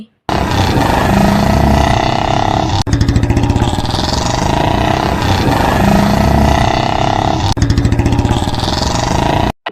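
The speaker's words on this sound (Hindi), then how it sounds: "चीकू और पीकू सुबह घूमने के लिए अपनी बाइक से निकल पड़े।" Steady motorbike engine drone in a Hindi animated cartoon, loud and continuous with brief breaks, under background music and no speech.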